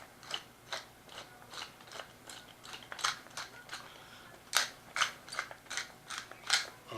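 Black pepper being freshly ground by hand, a quick run of dry crackling, grinding crunches in irregular bursts, close and fairly quiet, with no talking.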